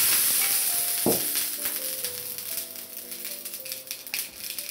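Cumin and cheese cracker dough sizzles steadily in an oiled honeycomb-patterned mold as the savory crackers bake a minute per side, a continuous close hiss with a brief sharper crackle early on.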